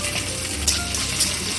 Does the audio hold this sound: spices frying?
yes